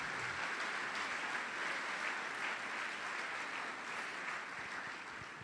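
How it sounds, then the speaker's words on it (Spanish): A church congregation claps in praise to the glory of God during a worship service, producing a continuous, fairly soft wash of applause that stays level and fades slightly toward the end. "Dale un aplauso a la gloria de Dios"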